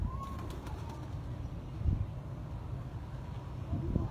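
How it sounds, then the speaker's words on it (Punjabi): Pigeons at a breeder's home cooing softly, low murmuring coos repeating in the background with faint chirps and a short wing flutter, no speech heard. "ਬਹੁਤ ਖੂਬਸੂਰਤ ਕਬੂਤਰ"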